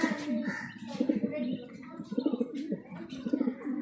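Mundian pigeons coo in a steady, repeated murmur of low throaty calls close by, with some voice mixed in throughout.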